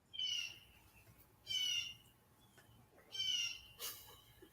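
Birds call in three or four short, shrill bursts spaced about a second apart, fairly faint against a low background hum.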